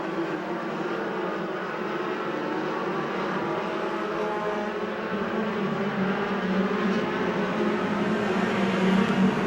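USAC/CRA sprint cars racing on an oval track at Bakersfield, California, their engines blending into a steady, loud roar from a distance for the whole stretch.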